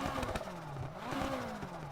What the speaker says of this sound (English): There's a V8 in there